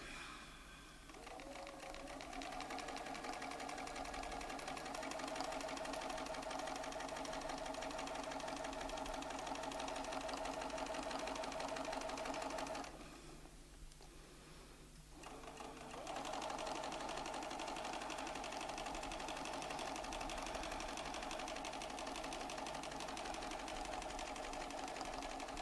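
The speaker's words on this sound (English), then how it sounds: "So now I'll be able to sew that template, that petal in here" Domestic sewing machine stitching fabric around a petal template, a steady mechanical whir that runs continuously, briefly slows and dips around the midpoint, then resumes at full speed, close and alone.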